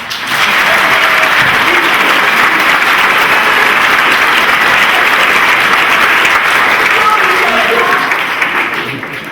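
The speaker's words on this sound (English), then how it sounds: "give him another round of applause" Steady, dense applause fills a Navy Medical Laboratory Technician graduation ceremony, a loud, even wash of many hands clapping that holds for the full stretch before tapering slightly at the end.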